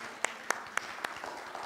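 Applause from an audience at a motivational spiritual service, heard as a quiet, continuous patter of clapping with a few sharper claps standing out at regular intervals.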